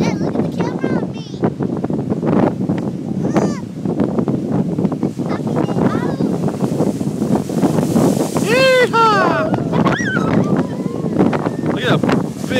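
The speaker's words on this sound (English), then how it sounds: "Oh, we got strong wind." Strong wind buffeting the microphone in a steady roar on the shore of Lake Erie, with big waves surfing in the background and people talking and shouting over it.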